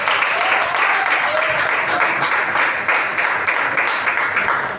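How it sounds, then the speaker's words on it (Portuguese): Church congregation applauding loudly, a dense, steady wash of many hands clapping that fills the whole stretch, with a voice faintly audible beneath. "Vamos receber o nosso pastor com as palmas bem fortes para o Senhor."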